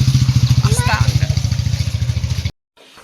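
Motorcycle engine running close by with a rapid, pulsing putter, a voice speaking briefly over it before it cuts off.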